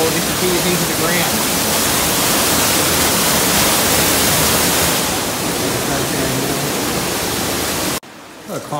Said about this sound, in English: The waterfall disappears into the ground.